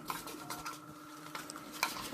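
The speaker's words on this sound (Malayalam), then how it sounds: "മാവിൻ്റെ പാത്രങ്ങളും പച്ചക്കറി വെച്ചിരുന്ന പാത്രങ്ങളൊക്കെ" Vessels that held idli batter and vegetables are washed in a home kitchen, with quiet scraping and a few sharp clinks and knocks of metal dishes.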